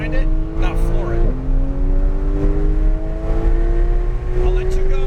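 A Porsche 911 GT3 at full throttle on a racetrack, its engine roaring loud and close as the pitch climbs steadily, with one quick dip at a gear change before it rises again; a voice talks over it.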